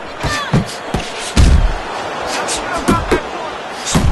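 Punches landing in the Fight Night Champion boxing video game: a string of dull thuds and slaps, several in quick sequence, under loud talking.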